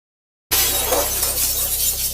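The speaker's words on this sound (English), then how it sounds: "it is expecting the sound of breaking glass." Glass shatters in a loud, sustained crash that bursts in abruptly after a brief silence and holds a dense, bright spray of breaking fragments to the end.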